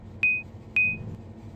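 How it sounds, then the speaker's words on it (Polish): A Roblox bus game, Driver Transport Game 2, with a Solaris Urbino bus sounds two sharp, identical electronic warning beeps about half a second apart over a low hum. "Tutaj będzie nam pikało cały czas"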